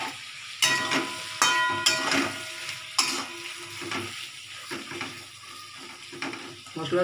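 Spice paste of salt, sugar, ground coriander, cumin and chilli powder sizzles in a pan for a tangra fish curry, with a steady fry punctuated by sharp clinks and scrapes of stirring.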